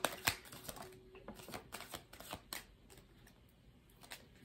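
Tarot cards shuffled by hand, a run of crisp riffling snaps and flutters, some louder bursts early, then softer rustling, close and alone without talk.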